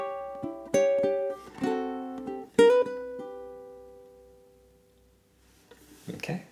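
A ukulele plays measure 10 of a tune in several plucked chords that ring out and fade to near silence, with a soft rustle at the end.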